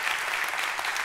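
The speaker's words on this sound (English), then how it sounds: "I want us to give God one more round of applause for this great building." A church congregation claps together in a brief burst of dense, even applause filling the room.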